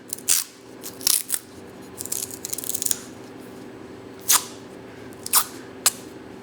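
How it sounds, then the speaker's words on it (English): Tape is pulled off the roll and wrapped in a spiral around an old Sako rifle bolt, giving short crisp tearing and crackling bursts at uneven intervals over a quiet hum, with no talking. "And this is a really old bolt, fellas. And we're just going to tape it up"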